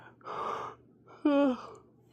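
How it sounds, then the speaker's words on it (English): A person yawning, two drawn-out breathy exhales, the second rising into a voiced, tonal yawn sound, close and quiet with no other talk. "if I knew I was going to start yawning, I wouldn't have started recording"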